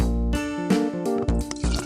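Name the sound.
water being added to pot in PBS Kids cooking game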